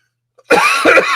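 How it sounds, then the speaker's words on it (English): A single dry cough from a man hosting a live broadcast, close and loud, coming after a tiny throat sound and breaking into two harsh bursts. "I got a dry cough still hanging on."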